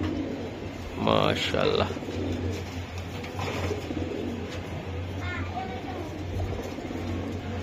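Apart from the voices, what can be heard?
Giribaj pigeons cooing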